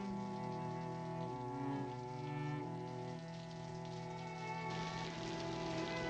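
Continuous rain pattering on a surface, with some tonal hum running underneath throughout.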